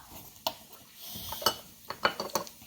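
A child mixes breakfast ingredients in a bowl at home, with a few sharp utensil clinks and scrapes against the bowl, spaced irregularly and close by, with no talking.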